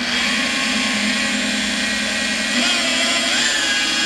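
A floor buffer runs at about 1500 RPM with its pad spinning inside a pad washer, giving a steady, loud motor whine and whir that holds constant throughout without pause.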